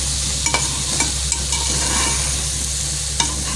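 Curry sautés in a pan, a loud continuous sizzle under brisk stirring, with a few sharp scrapes of the spoon against the metal, close and without any voices.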